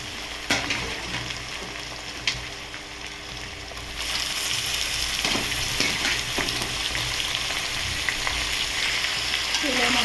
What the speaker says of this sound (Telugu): చికెన్ అయితే ఇలా వేగుతుందండి